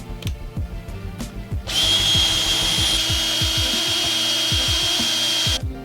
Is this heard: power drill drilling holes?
yes